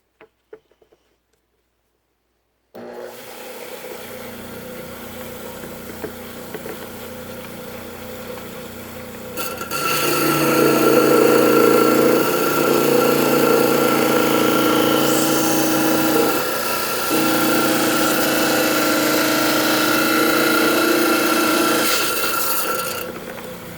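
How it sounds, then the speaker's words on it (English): A saw cuts a Fordite slab for cabochons, starting after near silence into a steady motor whine, then growing louder and harsher as the blade bites. The grinding drone holds for many seconds and dips briefly, with no voices. "we want to kind of cut two slabs"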